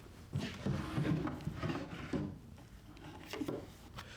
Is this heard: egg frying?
no